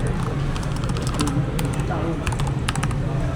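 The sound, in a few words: typing on ASUS ProArt KD300 low-profile keyboard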